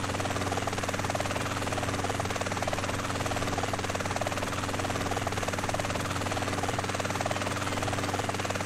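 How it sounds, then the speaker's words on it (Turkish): A helicopter in the video game GTA San Andreas drones steadily throughout, a loud, continuous rotor-and-engine hum with a fast, even chop and no talk over it. "Yanlışlıkla uçak var dedim, helikopter varmış burada."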